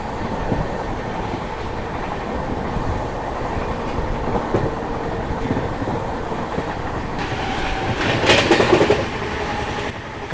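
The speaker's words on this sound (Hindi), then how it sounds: "ट्रेन अपने मैक्स परमिसिबल स्पीड में चल रही है" The Howrah Rajdhani Express runs at full speed through fog, a loud, steady rumble of wheels on rails with rhythmic clickety-clack and a brief metallic screech near the end, heard from on board.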